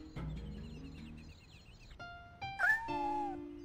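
A kitten in the Dreamcast video game Shenmue gives a faint, plaintive meow over quiet game ambience, a single drawn-out high cry followed by a low sustained musical tone.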